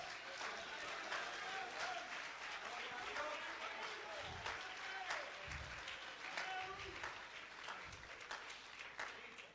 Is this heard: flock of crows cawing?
no